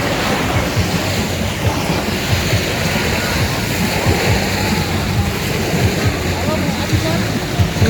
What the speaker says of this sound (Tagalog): Ayan ang dagat.